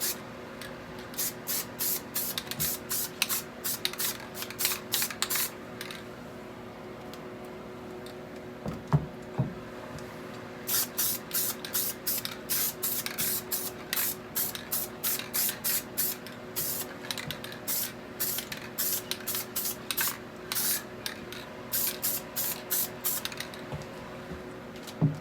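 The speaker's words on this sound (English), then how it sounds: "Looking to do about 3 coats of base on it, but first one's pretty light." Short repeated bursts of aerosol spray lay tint base coat onto an F150 tail light, close and crisp, in quick rhythmic passes with a brief pause midway.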